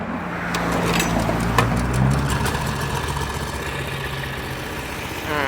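A small Mitsubishi two-wheel tractor engine runs steadily nearby with a low, even chugging drone and no speech.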